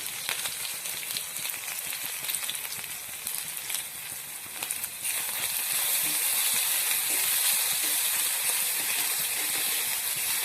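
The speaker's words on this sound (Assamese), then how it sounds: "নহৰুখিনি অকণমান ভালকৈ ভাজি ল'ম।" Crushed ginger and garlic fry in a pan for a matar ghugni, with a close, steady hissing sizzle that grows noticeably louder and fuller halfway through, and no talking.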